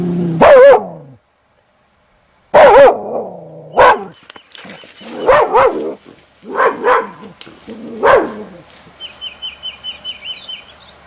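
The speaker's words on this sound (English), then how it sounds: "It's good to have a dog out here." A dog barks outdoors in the wilderness in a string of loud, spaced barks, with a pause after the first, then smaller repeated yaps trailing off while faint birdsong chirps in the background.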